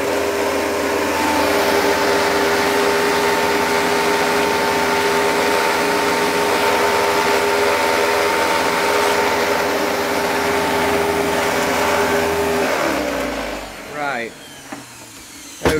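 A Dirt Devil Platinum 1000 bagged upright vacuum cleaner runs with a steady, loud motor whine close by, then spins down and cuts off near the end.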